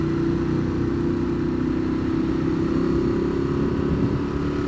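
A 2015 Ducati Monster 821 in touring mode drones with a loud, steady low engine note while riding, blended with rushing wind noise and no clear revving changes.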